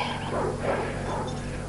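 A farm dog lets out a short pair of muffled barks or yips over a steady outdoor background.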